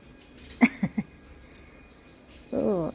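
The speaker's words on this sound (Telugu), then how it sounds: "ఒక్క నిమిషం చిట్టి పిట్టలు వచ్చినాయి చూడండి" Small birds chirp in quick, high repeated notes in the background, with a few louder nearby sounds and a brief voice-like burst near the end.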